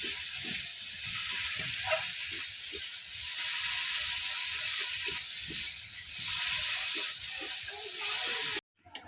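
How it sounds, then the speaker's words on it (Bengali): Continuous hissing sizzle of fish and greens frying in a pan, with light scraping and faint voices underneath, ending abruptly. "শাক ভাজা, তার সাথে হচ্ছে মাছ ভাজা"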